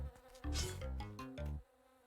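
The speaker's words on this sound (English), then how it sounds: "Flies. Bees." Flies buzz in the Spelunky video game, making a quiet, wavering electronic drone with stepped tones that runs for about two seconds.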